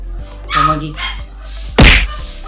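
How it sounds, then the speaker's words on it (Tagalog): A dog barks in the background of an indoor beauty and skincare talk, with a few short barks amid a woman's speech and a sudden loud thump nearby. "antayin muna nating matapos yung tahol ng aso"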